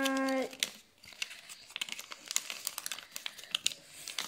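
Paper folded into an origami boat, with crisp crinkling and creasing sounds in irregular close bursts after a brief tone at the start, no talking.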